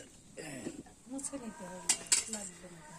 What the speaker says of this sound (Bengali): বিড়াল মাও মাও করে